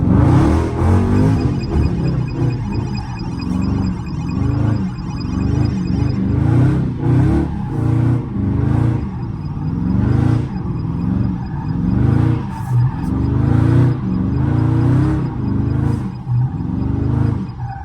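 Dodge Scat Pack engine revs hard and loud throughout a slide, its pulsing roar rising and falling with throttle while tires spin and scrub, continuous and close with no talk.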